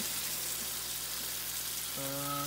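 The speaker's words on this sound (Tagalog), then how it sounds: "Ginigisa ko siya guys para mawala yung lansa." Pork liver sautés with onions for Igado, giving a steady, soft sizzle in the pan that stays even throughout, with a sustained hum joining near the end and no talking.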